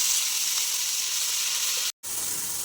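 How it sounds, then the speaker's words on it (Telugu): Green chili and onion paste deep fries in a pan with a steady, bright sizzling hiss that cuts out abruptly for a split second near the end, then resumes at the same level. "పచ్చిమిర్చి ఉల్లిగడ్డ పేస్ట్ మంచిగా డీప్ ఫ్రై చేసుకోవాలి"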